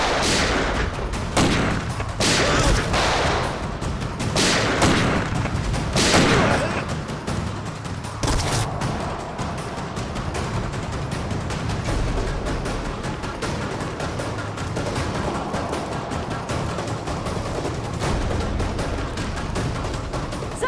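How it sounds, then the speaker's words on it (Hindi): Loud bursts of gunfire, with shots clustered densely early on, then thinning into scattered cracks over a continuous rumbling background. "तो गोलियां चल रही हैं।"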